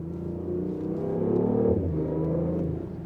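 A BMW i8 plug-in hybrid sports car in sports mode accelerates with a low, droning engine note that swells and then eases off, heard from inside the cabin with no talk over it.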